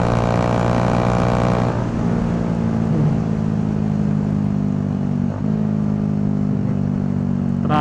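Bajaj Dominar 400 motorcycle with an SC Project exhaust on a night ride, engine held at high RPM with a steady, loud droning rasp that eases slightly after the first couple of seconds.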